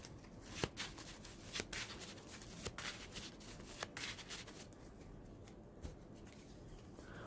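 Yu-Gi-Oh trading cards slid and shuffled back into a deck by hand, quiet papery riffling with several sharp clicks and taps, close and faint.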